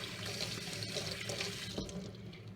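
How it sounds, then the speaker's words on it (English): Tap water runs steadily over rabbit feet being rinsed at a sink, a continuous close splashing stream with no talk. "rinse them out real good"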